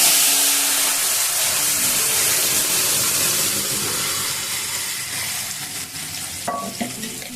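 Boiled vegetables go into a hot pan with cumin while making a winter vegetable dal, giving a loud, steady frying sizzle that fades slightly, with a few light clinks near the end.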